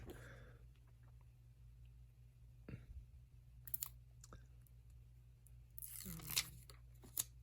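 Protective film is peeled off a GoPro Hero 10 Black camera, giving a short faint crackly tear near the end after a stretch of quiet handling clicks.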